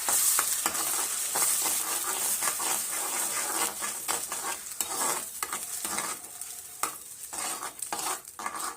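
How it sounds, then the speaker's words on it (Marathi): A tomato chutney mixture being stirred and sautéed in oil, with a steady sizzle and repeated scraping of a spoon against the pan. "एक दोन मिनटं चांगल्या प्रकारे ह्याला असं तेलात परतून घ्यायचं"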